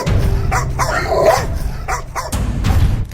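Two pet guard dogs bark in short bursts while rushing at snatchers, several close, loud yaps and barks in quick succession with brief gaps between them.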